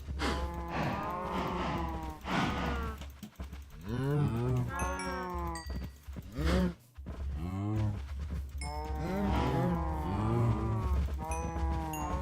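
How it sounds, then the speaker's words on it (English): A herd of cows in the Minecraft video game moos again and again in overlapping, drawn-out calls. The lows are loud and near, with barely a pause between them. "Let's feed all of these cows."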